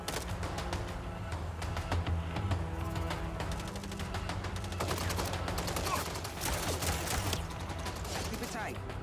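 Sustained gunfire in the video game MindsEye, dense rapid bursts of shots layered over a continuous loud combat din, with voices speaking amid the shooting.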